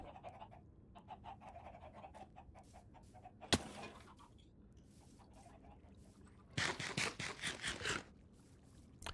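Minecraft chickens cluck in short, repeated bursts from a pen, fairly close, with a louder flurry of clucking and flapping near the end and a sharp scrape midway.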